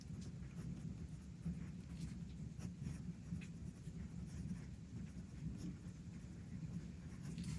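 A Carolina Pen Company fountain pen with a fine steel nib scratches across paper in soft, faint strokes and short scribbles, heard close up and with no talking.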